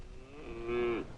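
A single cow moos once, a short rising-then-falling low call that swells to its loudest near the end, heard clearly and alone against quiet background.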